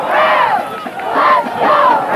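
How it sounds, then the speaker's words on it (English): Spectators at a 1993 high school football game between Hand and New Canaan roar and cheer in sustained swelling waves, a dense crowd in the stands close by. "we will hear more cheering for New Canaan"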